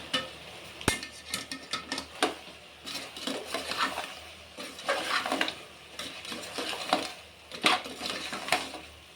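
A spoon scrapes and clanks around a metal pot while goat head curry with salt, chili, turmeric and coriander powder is mixed, giving irregular close stirring scrapes and knocks with faint sizzling underneath.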